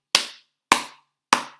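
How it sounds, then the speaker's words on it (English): Three sharp hand claps land in an even, simple rhythm, each one crisp and close with a quick decay and silence in between. "clap patterns and copy them back"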